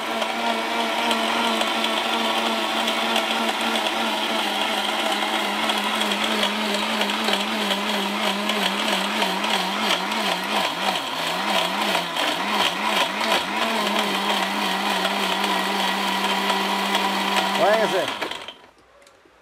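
An Orpat mixer grinder motor runs loudly and steadily, its pitch wobbling as the load shifts, then winds down and stops near the end.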